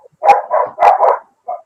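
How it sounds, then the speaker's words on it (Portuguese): Dogs bark outside a house while people walk them past, heard from indoors: two quick pairs of sharp barks followed by a single shorter yap, fairly clear against silence. "O cachorro aqui é aqui em casa, viu?"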